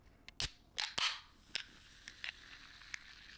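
An energy drink can popping open, a sharp crack followed by a hiss and several small clicks and snaps, fairly close and alone with no talking.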